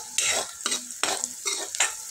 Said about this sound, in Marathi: कांदा जरा लालसर होईपर्यंत परतून घ्यायचा आहे।